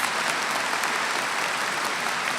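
A crowd at a high school graduation claps steadily in sustained applause for the school board, dense and even throughout, with no speech.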